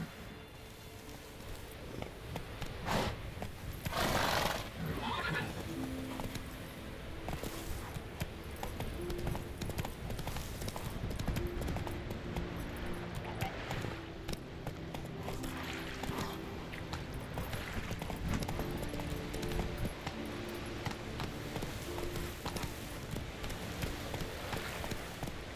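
Galloping horse hooves in The Witcher 3, a steady rapid clip-clop rhythm running throughout at moderate level, mixed with game ambience and background music, with no voices.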